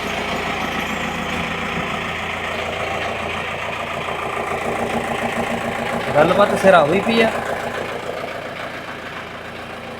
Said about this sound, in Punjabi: ਆਉਂਦੀ ਆ ਨਾ ਜਮਾ ਨਵੀਂ ਨਵੀਂ ਇੰਜਣ ਦੀ ਆਵਾਜ਼ ਹੈ